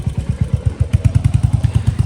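A motorcycle engine runs close by with a steady, rapid low thumping pulse that grows slightly more regular, with light mechanical clatter on top and no talk.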